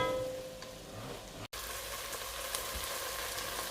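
Dry-cured bacon lardons frying and browning in a pan, a soft continuous sizzle with faint crackles, steady and fairly quiet, with a brief dropout midway.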